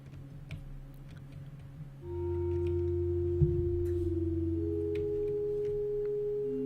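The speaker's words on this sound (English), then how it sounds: "Sounds like I'm in some sort of church." Ambience inside a church in a video game: steady sustained organ-like tones swell in partway through and hold over a low hum, with faint scattered ticks and no voices.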